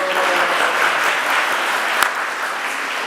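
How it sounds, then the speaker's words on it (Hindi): Steady applause from a large audience at a Hindi devotional discourse on the Srimad Bhagavatam, a dense continuous patter of many hands with one sharper clap standing out, holding even and fairly loud throughout. "लाओ ताली बजा दो।"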